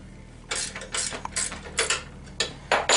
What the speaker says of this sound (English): The first thing you want to do is loosen those two up in the back.